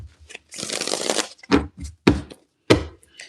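Tarot cards shuffled by hand, first a sustained riffling rush, then three sharp taps and slaps as the deck is squared, close and fairly loud with no speech.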